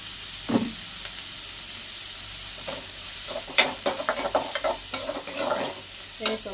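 Food fries in a pan while a spoon stirs and scrapes through it, giving a steady sizzle broken by clinks and knocks that grow busier midway.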